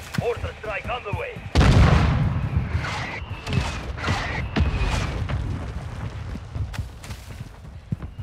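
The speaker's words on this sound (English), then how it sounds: "Mortar strike on the way." Mortar strike explosions in Call of Duty: Modern Warfare II: a sudden loud, heavy blast followed by a string of booming impacts and rumbling debris, with scattered sharper cracks and radio chatter over the top.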